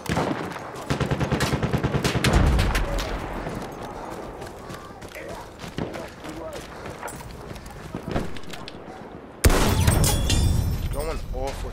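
Sniper and machine gun fire in the video game Battlefield 1, rapid bursts of automatic gunfire and sharp single shots, then a loud crackling burst near the end, with a voice talking over the combat.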